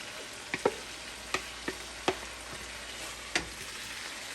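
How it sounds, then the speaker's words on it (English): Shredded beef sizzles softly in a pan for Cuban ropa vieja, with a low steady frying hiss broken by several sharp clicks and taps of a utensil as it is stirred. "So we're going to stir this around, and then I'm going to add all of our shredded meat into this."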